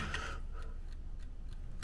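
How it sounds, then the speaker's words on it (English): Faint, regular ticking comes from something like a bomb in an underground bunker, a steady rhythm of soft clicks about every third of a second under a low background rumble. "it's ticking away, man."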